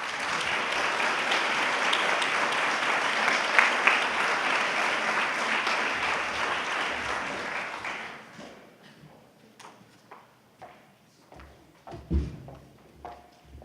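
Loud, sustained applause from an audience welcoming a New Mexico Supreme Court justice to the stage at a law event, filling the room for about eight seconds before fading into scattered claps and faint handling noises.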